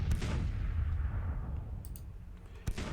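Artillery battery fire in the Grand Tactician Civil War strategy game, a rumbling low boom at the start that fades, followed by a sharp crack near the end, with scattered distant pops between.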